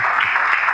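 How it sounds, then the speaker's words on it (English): Brief burst of audience clapping at a zero-knowledge cryptography conference talk, a dense, steady patter of many hands filling the moment. "So, applause,"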